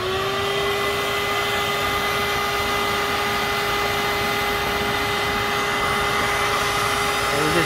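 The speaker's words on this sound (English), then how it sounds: "So I'm going to try to get these with the vacuum." A vacuum cleaner runs continuously close by with a steady whine and motor hum, held near leaves to suck up stink bugs outdoors.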